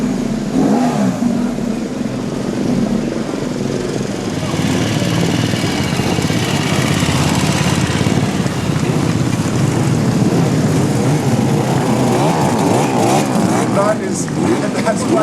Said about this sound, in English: That's quite a selection of motorcycles.